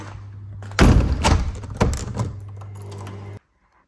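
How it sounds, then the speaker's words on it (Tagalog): A house door being shut at home after someone leaves, with a loud impact thud and rattle near the start, a second softer knock shortly after, and a steady low hum throughout that cuts off abruptly at the end. "Sara na natin tong pinto."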